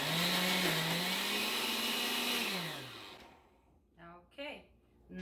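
A blender whirs loudly, blending roasted green tomato salsa verde under a towel-covered lid. The motor's pitch shifts as it runs, then winds down about halfway through, and a few short knocks and rattles follow.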